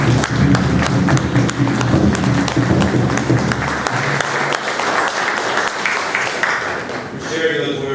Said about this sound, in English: More applause to the Forest Service for all their support and convenience.